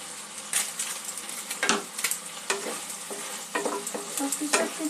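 Spiced chicken seasoned with salt and garam masala sizzles in a pan for sweet and sour chicken while a spatula scrapes and stirs it in irregular, close strokes, with no speech.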